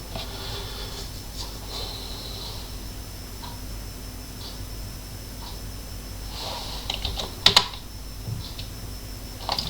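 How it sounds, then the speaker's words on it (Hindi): Keys pressed on a computer keyboard while a firewall installation is confirmed for reboot, a few quiet scattered taps and then two sharper, louder clicks close together near the end, with soft breathing in a quiet room. "वाई प्रेस करते हैं, एंटर प्रेस करते हैं।"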